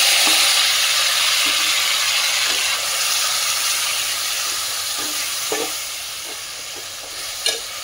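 Marinated chicken sizzles steadily and loudly in a heavy thick-bottomed pan, a dense continuous hiss with a few faint clinks near the end.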